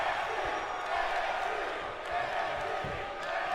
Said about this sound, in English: Crowd chanting NXT as they can see these two great athletes going at it to open the show